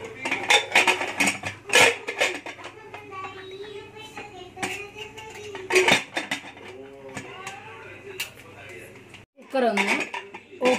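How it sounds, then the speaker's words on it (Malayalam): A pressure cooker of masala rice gets its lid fitted and closed in a home kitchen: a series of sharp metallic clanks and clicks, some in quick bunches, with a voice talking softly in between. "ഇനി നമുക്ക് ഈ കുക്കർ അടച്ചു വെക്കാം."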